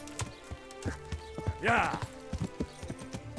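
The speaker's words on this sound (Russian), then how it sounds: "Лошадь. Пошли." Horse hooves clip-clop in Kingdom Come: Deliverance, a run of close, evenly spaced thuds with a brief snort or whinny midway, heard over game ambience.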